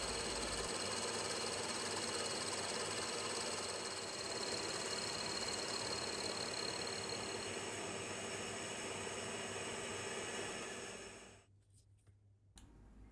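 A milling machine cuts a centre slot in a Keates angle plate with a continuous mechanical whine and hum, then falls abruptly silent just before the end.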